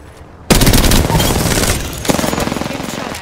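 Rapid automatic gunfire in the battle royale video game Apex Legends erupts loudly and close, a fast burst that runs for over a second, pauses briefly, then resumes as a quicker rattling string of shots.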